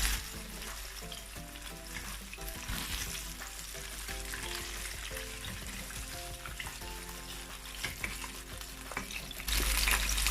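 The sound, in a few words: chicken wings frying in oil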